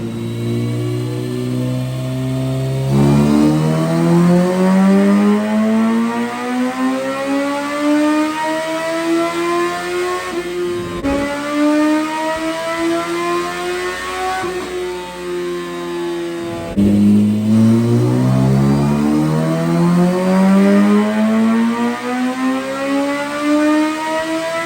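A CT engine run on a dyno with a richer air-fuel mixture, revving hard in long sustained pulls with rising whining pitch, loud and close, dropping off between pulls before climbing again.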